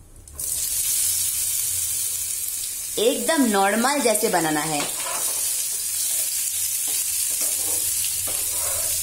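Steady oil sizzle of boiled potatoes frying in a pan with cumin, with occasional stirring scrapes; a voice speaks briefly partway through.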